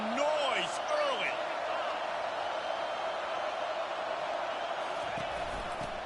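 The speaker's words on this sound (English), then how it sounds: "This crowd bringing the energy and noise early." A football stadium crowd roars at a college game, a dense steady wash of noise with scattered whoops and whistles, under close commentary from a play-by-play announcer.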